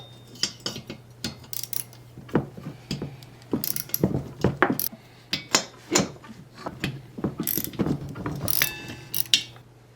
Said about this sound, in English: A little socket set like this with an extension makes this job really,